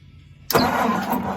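A 1964 Ford 2000 gas tractor engine, run for the first time in five years, catches abruptly after a brief quiet moment and settles into a loud, steady running roar, close by.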